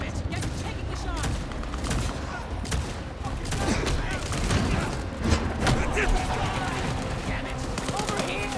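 Gunfire in Vampire: The Masquerade – Bloodlines 2, a dense run of sharp shots and bursts over a continuous din of combat noise, with shouting voices mixed in.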